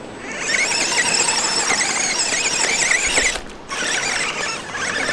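A HobbyPlus Terranaut 8x8 RC vehicle runs in high gear with a loud, steady, high-pitched motor and gear whine that dips briefly near the end before resuming, close by and without speech.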